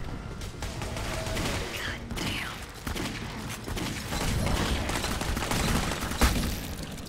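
Rapid bursts of rifle fire in the video game Clive Barker's Jericho crackle over a dense, continuous battle din, with sharp cracks and a brief louder blast near the end.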